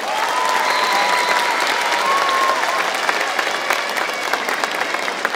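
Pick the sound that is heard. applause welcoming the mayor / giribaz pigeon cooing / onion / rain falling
applause welcoming the mayor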